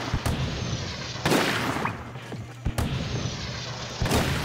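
A cannon in the video game Splatoon 2 Octo Expansion fires four loud booming blasts at roughly one-second intervals, each a sharp close-up thump over a low hum, with no voices.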